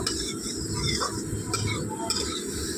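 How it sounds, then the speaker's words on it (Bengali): Okra (bhindi) being stirred in a pan, with scraping and clinks of a utensil against metal at intervals over a faint background hiss. "আমি এটাকে ভালো করে নাড়িয়ে চাড়িয়ে কষিয়ে নেব"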